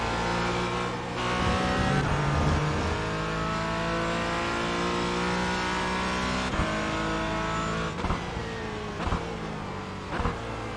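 Race car engines roar in iRacing sim traffic, including a Porsche ahead, with one loud, close, high-revving engine whining steadily, gear shifts and brief throttle blips, and other cars' engines passing nearby.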